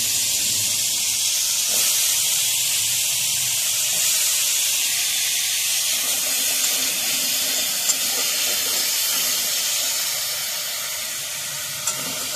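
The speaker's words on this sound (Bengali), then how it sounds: "এবার আলুগুলো একটু ভেজে নেবো।" Potatoes frying in a pan with very little oil give a steady, dense sizzle and hiss close by, continuing without break and easing slightly near the end.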